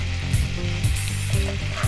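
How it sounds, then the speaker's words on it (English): Butter melting into a reduced salsa sauce for chicken in a hot pan gives a steady, close sizzle with low bubbling underneath and a few brief louder spits and scrapes, with no talking. "we're just going to add a little bit of butter to it"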